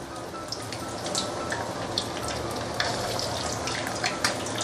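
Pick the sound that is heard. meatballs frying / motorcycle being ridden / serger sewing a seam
meatballs frying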